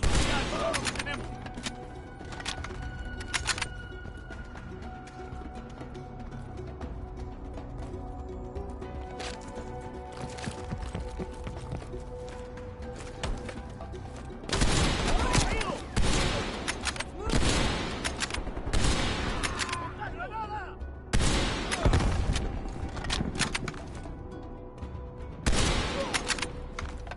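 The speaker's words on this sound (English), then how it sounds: "They're shooting at us!" Bursts of gunfire from a shootout in a Cold War video game, with scattered shots early on and heavy, dense volleys from mid-clip onward, loud and close, mixed with game sound and shouting voices.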